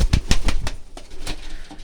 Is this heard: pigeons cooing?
yes